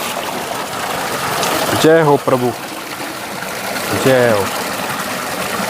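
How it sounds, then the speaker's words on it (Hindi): A cold, mineral-rich mountain spring stream on the way from Tehri to Kedarnath rushes steadily and close by, with a voice briefly speaking over the flowing water. "यहाँ पे हमें एक धारा मिला है जो बिल्कुल मिनरल से भरा हुआ है।"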